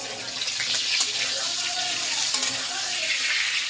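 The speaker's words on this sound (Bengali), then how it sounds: "এই যে আলুটা ভাজছি" A steady, loud sizzle of potatoes frying in hot oil, continuous crackling throughout with no pauses.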